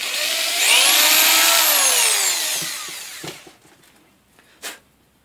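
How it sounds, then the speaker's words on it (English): A power drill reams out a stripped cam carrier bolt hole on a Quad 4 engine with a bit, loud whining run that pitches up and then winds down, followed by a few light clicks and taps. "Let me just ream that out with the bit one more time."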